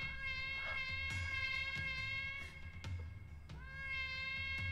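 A cat meows repeatedly as a stream alert, several drawn-out tonal meows in a row, loud and close over a faint steady background hum.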